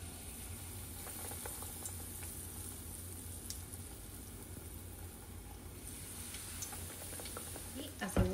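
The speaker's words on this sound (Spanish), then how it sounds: "Ahora sí lo vamos a llevar al aceite" Battered fish for tacos frying in hot oil: a steady, quiet sizzle and crackle throughout, with a louder clatter of handling at the end.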